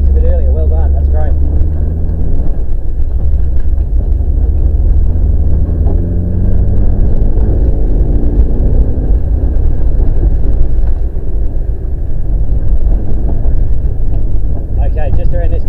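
Mitsubishi Evo rally car at a Tailem Bend rally school accelerating and braking, a loud continuous engine roar with rising and falling revs heard from inside the cabin, with an instructor talking over it.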